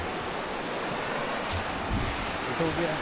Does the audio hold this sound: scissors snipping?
no